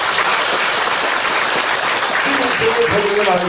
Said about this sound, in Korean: 박수로 준비해 보겠습니다.